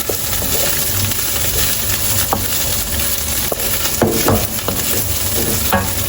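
Garlic sizzling in a hot pan while a pasta dish of creamy farfalle with ground beef is cooked, a loud, steady close-up fry with scraping stirs and occasional spatters, no talking.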